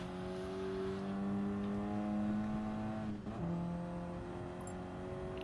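A Ford Focus Cup race car engine on an out lap at Dragon Trail Gardens hums with a steady, sustained tone that briefly dips as a gear changes, then holds on, moderately quiet and alone.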